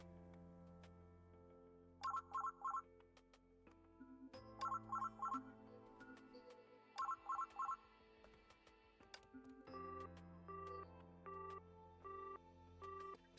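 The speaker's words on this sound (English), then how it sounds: "Is that my phone ringing?" A phone rings in the video game Honkai Impact 3rd, sounding in three short bursts of rapid trilling rings over a soft, steady musical background, with a plain melodic passage after the last burst.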